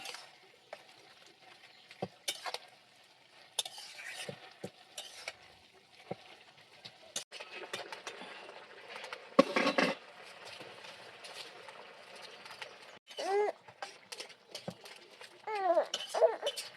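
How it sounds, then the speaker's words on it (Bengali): Boiled pumpkin greens and potato being mashed with a spatula in a village kitchen pot: sporadic soft scrapes and taps, quiet and close, with faint voices in the background. "একটা আমি খুন্তি দিয়ে একবারে কাদা কাদা করে দেবো।"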